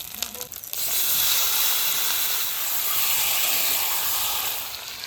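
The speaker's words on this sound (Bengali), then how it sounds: "এই মাখানো মাছটা এবার কষাবো" Marinated fish being sautéed in hot oil with spice paste, a steady loud hissing sizzle that swells after a brief clattery start and holds evenly to the end.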